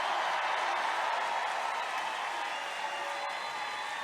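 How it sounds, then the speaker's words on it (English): Applause from a large crowd at a political conference, a constant roar of clapping and crowd noise at a steady level that sounds somewhat distant and dense. "every time I introduce him, he gets a tremendous applause"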